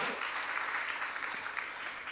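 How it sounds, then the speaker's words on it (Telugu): A church congregation clapping in praise of God, a steady, dense wash of many hands heard from a moderate distance throughout. "చప్పట్లు కొట్టి దేవుని స్తుతించు."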